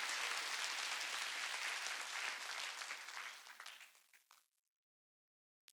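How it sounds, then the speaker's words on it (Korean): Congregation clapping at a church Sunday service, a dense sustained round of applause that gradually thins and fades out over about four seconds, ending in silence. "이런 걸 믿으면 박수로 하나님께 영광을"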